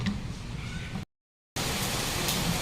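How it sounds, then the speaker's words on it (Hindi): Heavy rain pours down in a dense, steady hiss, with a brief dropout to silence partway through before the downpour resumes just as loud. "लो भाई, हो गई फिर से अंधाधुंध बारिश, तगड़ी वाली बारिश है।"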